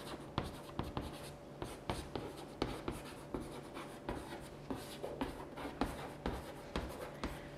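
Chalk writing on a board, a steady series of soft scratchy taps and strokes in a quick irregular rhythm, close and quiet, with no talk over it.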